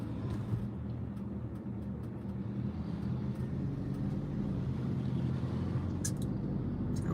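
A car cruises along on an outing to buy a cake, with a steady low road and engine rumble inside the cabin and a few faint clicks and knocks over it.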